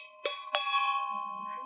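A bell metal devotional vessel rings twice when struck, two sharp strikes about a third of a second apart, each leaving a bright sustained metallic tone that lingers and slowly fades, close and clear, with faint low murmuring near the end.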